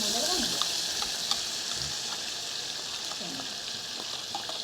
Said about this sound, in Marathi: 1 मिनिट हलवून घ्यायचं.